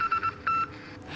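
Electronic keypad tones from a phone in Warzone, a short run of distinct beeps followed by one longer sustained tone, clear and close with faint game ambience behind.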